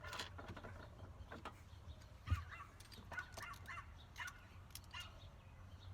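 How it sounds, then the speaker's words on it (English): Dog barks sound faintly in the background of a garage where a Chevrolet Avalanche exterior mirror is being swapped, a few short scattered yaps at a distance amid low ambient noise. "Apologize for the dog barking in the background."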